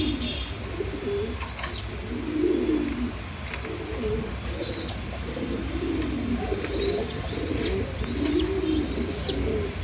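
Big grey Lahori pigeons, also called silver, coo in soft, rolling repeated phrases at close range. Occasional higher chirps sound over a steady background hum, with no voices.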